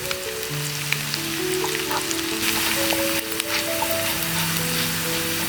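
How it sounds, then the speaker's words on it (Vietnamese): Sliced shallots frying in hot oil over lowered heat: a steady close sizzle and crackle that stays even throughout, with faint background hum and no talking. "Dầu nóng thì mình cho hành vào phi và hạ nhỏ lửa nhé."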